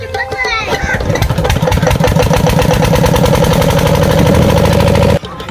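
A tube well diesel engine at a corn field, long idle, is cranked to start, giving a loud, rapid, rhythmic chugging that runs steadily for about five seconds and then cuts off abruptly.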